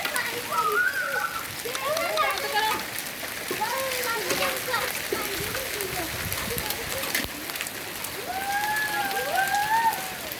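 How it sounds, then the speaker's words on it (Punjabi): Hailstones fall in a dense, continuous patter and splatter over farm fields, close and steady throughout, with people talking over it. "ਨਹੀਂ ਤਾਂ ਡੱਗਦਾ ਹੀ ਨਹੀਂ ਪਾਣੀ ਗੜੇ ਹੀ ਡੱਗਦੇ"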